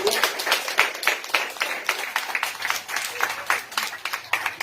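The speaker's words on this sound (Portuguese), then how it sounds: "Uma salva de palmas ao Senhor." A church congregation claps during a worship service, a moderately quiet patter of separate hand claps rising and falling in loose pulses.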